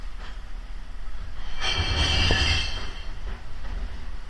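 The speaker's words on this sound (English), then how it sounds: "It's to the sound of the dustman." A garbage truck rumbles and hisses nearby outdoors, swelling with a grinding mechanical surge in the middle, then settling back to a low drone.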